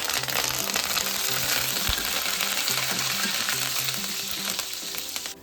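Potatoes crackle and hiss in hot oil in a pan for a crunchy, spicy potato fry, with dried red chillies to go in. The sizzle is dense and close, with faint stirring and no speech, and it eases slightly at the end.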